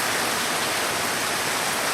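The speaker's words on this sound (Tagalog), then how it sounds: "grabe yung ulan po, may kasamang hangin, kasi malakas ang ulan, walang tigil po" Heavy, unrelenting rain driven by wind during a storm, a loud, dense, constant hiss that fills the short stretch without any pause or voice.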